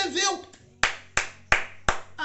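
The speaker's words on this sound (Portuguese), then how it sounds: "Aplauso." Applause from a church congregation comes as four sharp, evenly spaced claps after a stretch of spoken voice. The claps are close and loud, and each one decays quickly.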